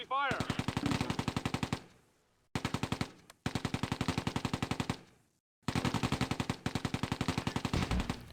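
Heavy machine-gun fire in the Close Combat A Bridge Too Far war game on the Schijndel sand dunes, with long rapid bursts broken by short pauses, loud and close.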